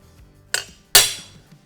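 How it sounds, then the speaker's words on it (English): A center punch strikes metal twice, leaving a small indent to guide a center drill. The first tap is a sharp, bright metallic hit, and about half a second later a louder, ringing strike follows and decays slowly. No one speaks. "And I punch hard enough so I get a little bit of an indent."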